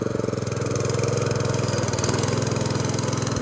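A small power tiller's engine chugs close up with a rapid, steady putter that changes slightly in tone as the clutch is let out.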